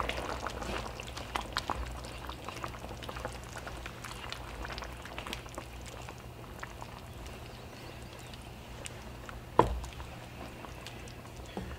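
Bamboo shoots stirred into a pot of simmering Thai red curry, giving faint, soft liquid sloshing and small clicks against the pot, with one sharper knock near the end.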